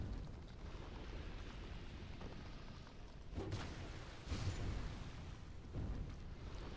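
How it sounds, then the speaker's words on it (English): Explosions in the video game Dark Souls 2, a dense rumbling roar with several deeper booming surges, fairly faint overall and without talk. "Explosion can kill you."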